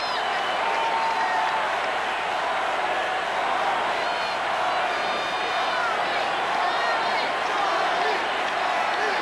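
A large stadium crowd at a 1985 World Series baseball game in Kansas City roars and chants steadily, a dense wall of voices that stays loud throughout without breaking.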